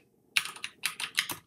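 Quick bursts of typing on a computer keyboard while entering headings in a note-taking app, about seven distinct clicking keystrokes in uneven rhythm after a brief silent start, close and clear with no voice.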